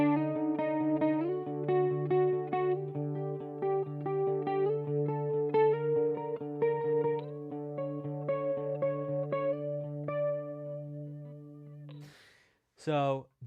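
A double harmonic scale played clean on a melodic instrument, sustained tonal notes stepping steadily over a held low drone, loud and reverberant, ending abruptly with a short burst of a different sound.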